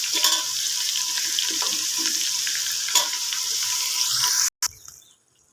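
Washed, chopped vegetables hiss and crackle in a hot pan with a steady, close sizzle mixed with watery spattering, then abruptly cut off and fall almost silent at the end.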